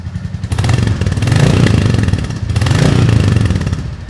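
A Royal Enfield Bullet 350 motorcycle with a short exhaust runs loud and close, its steady thumping engine and exhaust note swelling twice as the throttle rises and eases.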